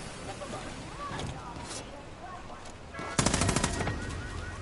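Automatic gunfire in Far Cry New Dawn breaks out as a loud rapid burst of shots near the end, following a stretch of rumbling ambient game noise with someone talking over it.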